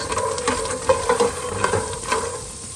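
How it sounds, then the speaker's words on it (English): Peanuts roasting in a little oil in a pan, a steady close sizzle broken by repeated scraping stirs and small crackling pops, with no voices. "With some oil, roast our peanuts"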